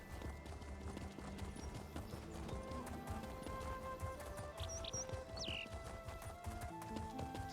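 Rhythmic horse hooves clip-clop steadily while riding in the game Elder Scrolls Online, with soft game effects and chimes layered over the galloping beat, no talk.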